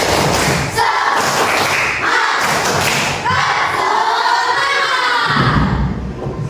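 A class of children chants loudly together in an energetic rhythm during an Islamic religious education lesson, with thumping claps and shouts filling the room.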